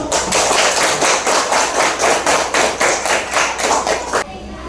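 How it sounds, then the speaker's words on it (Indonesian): Students and a teacher in an Indonesian classroom clap together in a strong rhythmic pattern, about a dozen beats in steady time, loud and close, ending abruptly. "Tepuk tangan untuk kita semua."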